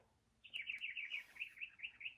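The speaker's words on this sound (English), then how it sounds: "The birds sing beautifully." A single small bird sings a quick, high, twittering phrase, clear and fairly close against a quiet background.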